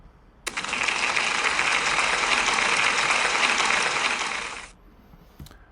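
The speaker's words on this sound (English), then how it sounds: "a big round of applause" Audience at a school celebration assembly giving a round of applause for a year 4 pupil's award, a sudden burst of dense clapping that holds steady for about four seconds then fades out.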